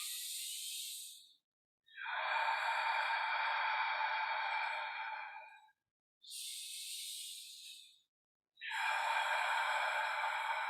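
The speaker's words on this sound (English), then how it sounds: "Let's take 3 deep breaths to ground ourselves and be here in the present." Four long, deep breaths taken slowly, alternating broad airy inhales and exhales, each lasting a few seconds with brief silent gaps between, close and steady with no talk.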